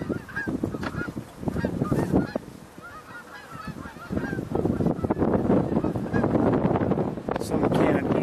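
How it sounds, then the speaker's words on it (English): Canada geese honk repeatedly outdoors, a loud chorus of overlapping calls with a brief lull midway before the flock grows louder again, wind buffeting the microphone. "Some Canada geese are leaving."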